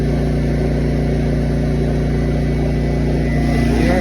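A Honda EU11000 generator runs on natural gas under load, a loud, constant engine drone with a steady low hum and no change in pitch throughout, heard close with no voices.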